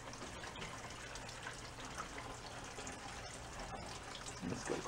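Fuel is pushed through the fuel pump of a small engine on a salvaged John Deere, with the line off the carburetor, making a faint, steady liquid trickle and hiss with no talking.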